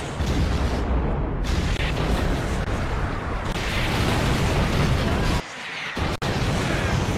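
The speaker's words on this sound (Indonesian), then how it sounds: "Mereka menembaki kedua desa itu dengan meriam dan menghujaninya dengan panah-panah api" Cannon fire bombarding two villages as a narrated effect comes as a dense, continuous roar of booms and blasts, loud throughout, with a brief drop-out near the end.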